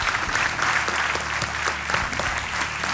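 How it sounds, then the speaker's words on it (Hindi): Steady applause from a studio audience on the Hindi quiz show Kaun Banega Crorepati as a guest friend is welcomed onstage, dense clapping filling the whole stretch with a low musical hum beneath. "तालियों के साथ आपका स्वागत"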